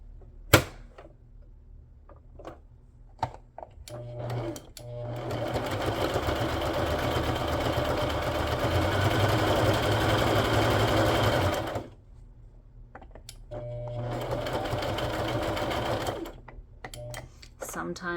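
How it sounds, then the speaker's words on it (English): A sewing machine stitching around the base of a slimline journal, a long close steady whirring run followed by a shorter second run, with small handling taps between and a person talking. "I'm gonna go ahead and sew around this base."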